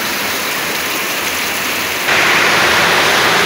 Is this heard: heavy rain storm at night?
yes